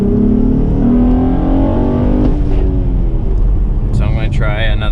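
An Acura TL AWD with a six-speed manual pulls hard in first gear, its engine droning loud and steady close by, while a person talks over it.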